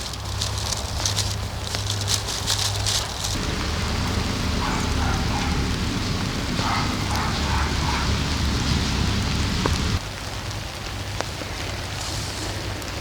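Steady rain falls outdoors at a rural homestead, a broad continuous hiss with a low rumble underneath, loud and close throughout, easing slightly toward the end.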